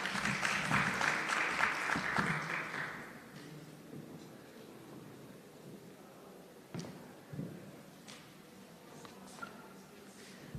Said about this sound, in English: Let's have another round of applause for 3 excellent presentations.